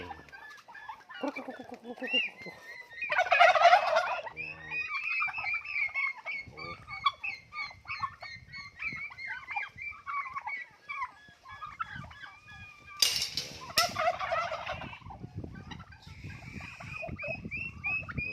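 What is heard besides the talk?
turkeys gobbling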